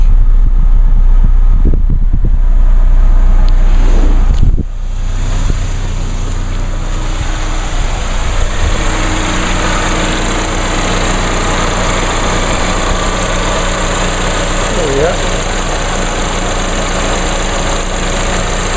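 A 2016 Chevrolet Equinox LT with 1,576 miles, its small engine running loud at first, then a sharp transition and a long, steady, even idle hum heard close with no talking.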